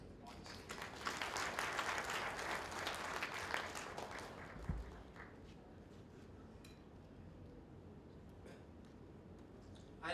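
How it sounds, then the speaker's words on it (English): Audience applause at a ceremony in Dhaka, a faint wash of clapping that swells early and then thins out, heard from a distance. "with a big round of applause"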